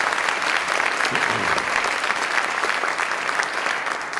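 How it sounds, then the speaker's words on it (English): An audience in a college hall gives a round of applause for a woman after her introduction at a state address, a full, even wash of clapping from many hands, loud and sustained throughout. "Can we give her a round of applause?"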